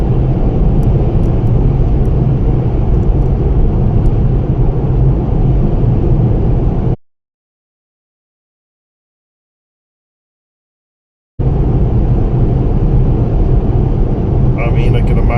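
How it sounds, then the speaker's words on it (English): Steady, loud road drone fills the cabin of a car driving between Mayo and Dublin. The constant rumble drops out completely for a few seconds in the middle, then returns unchanged. "The kind of constant drone of the road."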